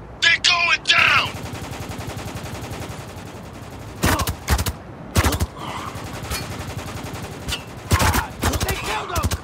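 Heavy gunfire rattles through a Spec Ops The Line battle, with dense bursts of automatic fire recurring in loud clusters over a continuous rumbling backdrop, mixed with shouted voices of soldiers between volleys.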